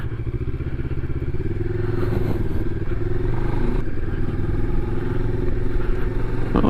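A Moto Morini X-Cape motorcycle cruising at low speed on a road near a dirt patch, its engine a steady, continuous rumble with wind and road noise and light clattering, close and loud with no speech.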